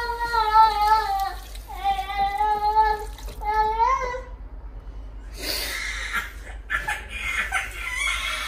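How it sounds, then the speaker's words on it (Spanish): Water pours into a cooking pot holding chicken, potatoes and parsley for a simple stew: a steady, close splashing rush that starts partway through, after a stretch of clucking, rooster-like calls. "Echamos agua."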